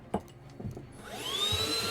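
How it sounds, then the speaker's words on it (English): A household vacuum cleaner switched on by accident, its motor whining up from silence into a steady rising roar that dominates the end, close and loud. "I hit the power button on the vacuum by accident"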